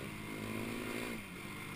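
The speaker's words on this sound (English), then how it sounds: "as you can hear, it's a fairly quiet quad. Everything's stock on it, stock exhaust" A 2012 Yamaha YFZ 450 quad with stock exhaust idles nearby in the woods, a steady, fairly quiet engine drone with a slight dip in pitch partway through.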